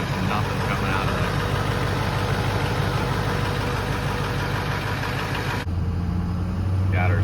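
A 6.0 Powerstroke diesel truck with a 5 inch exhaust idles steadily and close by, a constant low rumble that shifts slightly in tone near the end.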